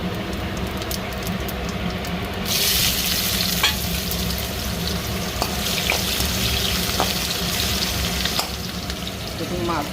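Cumin seeds and bay leaf fry in hot oil in a kitchen, a steady close sizzle that grows brighter and louder after a couple of seconds, with a few faint clicks from stirring.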